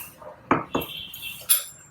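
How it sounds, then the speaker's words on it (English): A spoon clinks against a pan while mixing carrot payasam, giving two sharp metallic taps followed by a scraping clatter, close and fairly quiet with no talking. "Mix it well."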